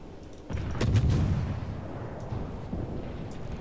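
Warship artillery in World of Warships, a single deep boom followed by a long low rumbling roll that fades slowly, heard fairly quietly with no talking.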